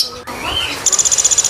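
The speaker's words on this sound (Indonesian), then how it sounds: "Ini ada pelatuk beras mas Haji" A pelatuk beras songbird held at a bird seller's gives a rapid, loud run of about ten sharp, high chirps close by, after a brief rustle and soft background noise.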